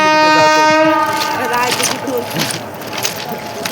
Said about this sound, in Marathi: बघा आता या साईडला आणखी एक ट्रेन आली